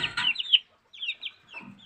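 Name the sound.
chicks clucking while eating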